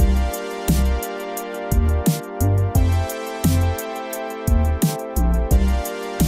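A punchy kick drum thumps in a steady beat made in FL Studio 12, alongside sharp percussive hits and synth tones, loud and rhythmic with no voices.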